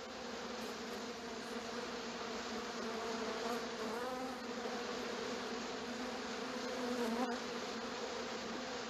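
A cartoon swarm of bees buzzes in a dense, continuous, steady drone that holds at moderate loudness, with no voices.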